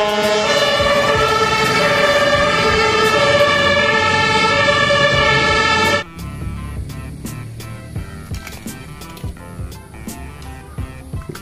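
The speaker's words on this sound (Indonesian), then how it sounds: "mobil pemadam kebakaran lagi" A loud toy fire truck siren wails continuously for several seconds, then cuts off, leaving clicks and small rattling handling noises.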